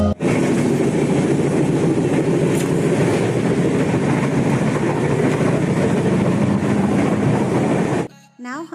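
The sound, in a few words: train starting and moving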